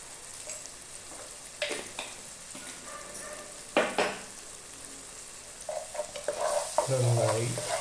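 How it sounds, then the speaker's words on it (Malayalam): Chicken masala spices fry and sizzle in a pan while a spoon stirs them, with scattered scraping strokes over a steady low sizzle that swells louder near the end, close up and with no talking. "ഈ മസാലകളൊക്കെ ഒന്ന് മൂത്ത് വരണം. അതിന് വേണ്ടിയിട്ടുള്ള ഇളക്കി മാത്രം മതി."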